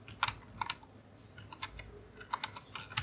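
Keys on a computer keyboard are tapped out at a quiet, close range as a password is typed, coming in short irregular clusters of clicks with small pauses between them, and no one speaks.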